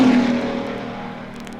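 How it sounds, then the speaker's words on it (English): Racing engines at Le Mans in 1964, a Ford GT and a Ferrari, drone loudly and steadily at close range, fading gradually over about a second and a half with no speech. "Bandini is now at the wheel of the Surtees Ferrari."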